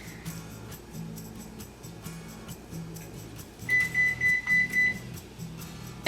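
A kitchen oven signals it has finished preheating with a run of five bright, evenly spaced beeps over a low humming background.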